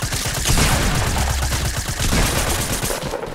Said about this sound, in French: C'est qui le sauvageon qui tire là?